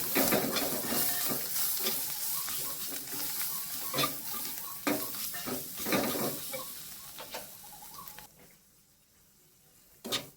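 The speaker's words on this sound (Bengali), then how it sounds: "দেখো মশলাটা আর একটু নেড়ে চেড়ে আমি কাঁঠালের দানাগুলো দিয়ে দেবো" Spices with chili powder sizzling and frying in a hot pan, steady close crackle and hiss with scraping stirring strokes throughout, easing toward the end before a final stir.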